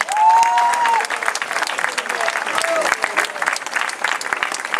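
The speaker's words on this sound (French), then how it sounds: "Je vous demanderai s'il vous plaît de les applaudir bien fort." Audience in Tarascon applauding the municipal festival teams: sustained, dense clapping from a large crowd that stays strong throughout, with a brief voice or whistle-like tone near the start.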